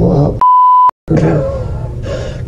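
A steady, high-pitched censor bleep lasting about half a second cuts into a man's speech, followed by a brief silence before talking resumes.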